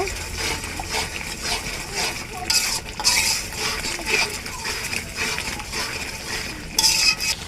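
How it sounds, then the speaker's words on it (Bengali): Biryani spice mix for a Bangladeshi beef biryani being stirred and fried in a pot, with repeated scraping and clinking of a utensil against metal and light sizzling, moderately close and steady throughout. "ভালোভাবে মশলাগুলো কষিয়ে নিব"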